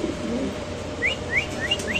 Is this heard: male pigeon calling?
yes